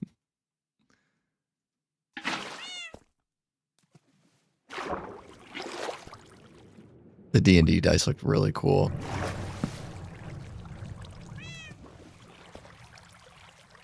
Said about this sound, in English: I really wish this cat would stop meowing.